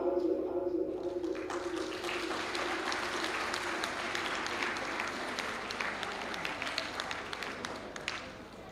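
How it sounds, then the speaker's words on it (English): An audience at a primary school graduation claps for dancers, starting after a brief tone and building into continuous applause that slowly fades toward the end. "Give them a round of applause again"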